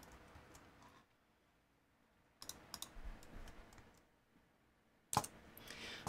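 Quiet bursts of typing on a computer keyboard give rapid soft clicks in two or three separate runs with short pauses between them, close by and faint, with no talking.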